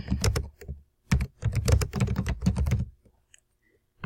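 Fingers typing text on a computer keyboard in quick irregular bursts of clicks, close and clear, with a brief pause before a final keystroke.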